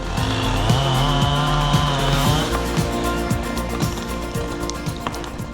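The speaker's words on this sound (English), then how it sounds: "Fire up that chainsaw, boy." A chainsaw runs continuously with a rough, buzzing drone, rising briefly then chugging along steadily nearby, cutting a hollow tree in a backyard.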